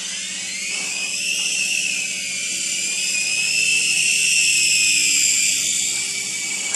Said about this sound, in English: Just wanted to show you what a beginner helicopter's like with a beginner